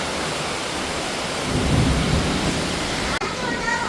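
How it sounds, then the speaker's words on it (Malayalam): Heavy rain pours during a windy thunderstorm at a fishing spot, a loud dense roar of downpour with a deep rumble of thunder swelling in the middle, continuous and close. "ഭയങ്കര മഴ കേട്ടോ"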